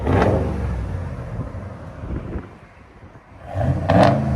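RAM pickup with a 5.7L HEMI V8 and a Black Widow exhaust, rear muffler still on the resonators, gives a deep rumble that swells, dips to a quiet idle and rises again as it revs.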